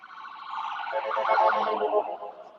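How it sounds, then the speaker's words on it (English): A wailing emergency siren, loud and close, its pitch rising and warbling for a couple of seconds with no voices over it. "It's a little ambulance."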